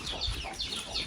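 A wild jungle fowl calling outdoors, a few short harsh bird calls repeating in quick succession, moderately close over a faint background.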